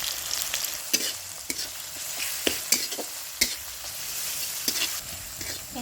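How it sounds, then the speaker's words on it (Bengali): Chopped onions fry in oil and are stirred, giving a continuous sizzle under repeated sharp scraping strokes of a spatula at an irregular rhythm, close and fairly loud. "পেঁয়াজটা বেশি ভাজবো না, হালকা লাল লাল করে ভাজা হয়ে গেছে"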